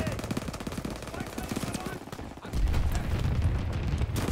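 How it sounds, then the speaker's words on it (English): Rapid gunfire in an online shooter game, bursts of automatic fire crackling densely, then heavier booming shots after a brief dip, with faint voices mixed in. "Black guns firing, clearing the skies"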